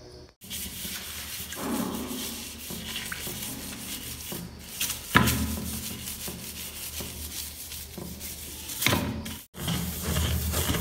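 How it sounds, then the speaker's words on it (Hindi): A toilet brush scrubs a toilet bowl with Harpic cleaner, giving close, repeated rubbing strokes broken by a few thumps against the porcelain. "और फिर यहाँ पे भी अच्छी तरह से इसको मिला दें आप टॉयलेट ब्रश की सहायता से"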